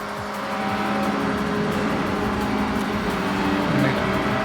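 A video game car engine revs and drones in a continuous, rising and falling roar, with faint ticking in the background and no clear voices over it.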